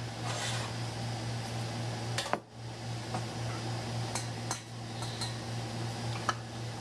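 Metal canning lids for hot pepper jelly, lifted with a magnet wand and set on glass jars, make faint, sparse clicks and light clinks over a steady background hum.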